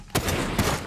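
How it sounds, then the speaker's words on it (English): Two sharp gunshots in the video game Fortnite ring out close and loud, a fraction of a second apart, with a lingering echoing tail. "I'm getting shot at, but they have no shot."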